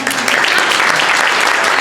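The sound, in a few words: applause for Cora Schroeder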